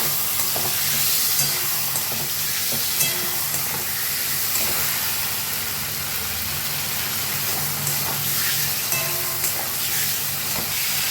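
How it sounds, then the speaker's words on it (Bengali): Tomato and ground spice paste fry in a pan for a fish curry, giving a steady sizzle and hiss with occasional stirring scrapes. The sound is continuous and close, and no one speaks. "টমেটোটা হালকা ভেজে নিয়ে দিয়ে দেবো বাটা মশলা।"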